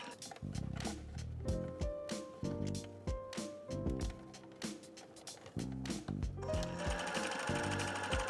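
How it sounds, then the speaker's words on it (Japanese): A sewing machine stitches the sleeve of a cotton T-shirt being remade, running in a series of short loud bursts with brief pauses between them, close up and with no talking. "この袖山町ぴったり上でなくてもで引っ張りながらミシンやっていきますので"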